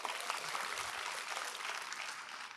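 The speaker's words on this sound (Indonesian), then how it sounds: "Beri tepuk tangan buat Cibubur." Congregation applause during a church service, a quiet, steady spread of many hands clapping from across a large hall, sounding somewhat distant and unbroken.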